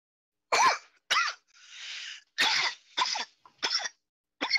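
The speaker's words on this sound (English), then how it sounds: "That in-character coughing?" A run of sharp, staged coughs and throat-clearing bursts, about six or seven of them, performed in character by an actor in a Star Trek fan audio drama, loud and close with brief gaps between them.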